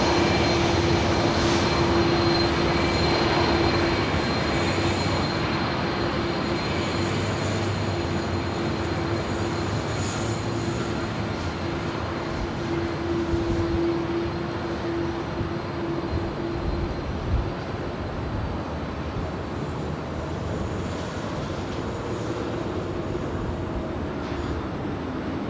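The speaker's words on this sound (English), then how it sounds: "So Iberia A330 now makes her way over to 24 left" Iberia Airbus A330 airliner at Los Angeles airport, a steady loud jet engine roar and whine as it taxis toward the runway, continuous and close with a faint high tone overhead.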